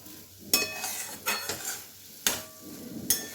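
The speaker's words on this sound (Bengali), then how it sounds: "দেখো, এটা নাড়তে নাড়তে কিন্তু কড়ার গা থেকে উঠে আসছে।" Pointed gourd paste stirred in an oiled wok, a spatula scraping and clinking against the metal in repeated strokes over a soft, steady sizzle of frying, close and moderately quiet.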